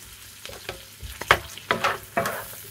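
Strips of beef for a beef and spinach dish fry in butter in a pan while being stirred. Scraping stirs and bright sizzling bursts come in a few uneven surges, close and fairly loud.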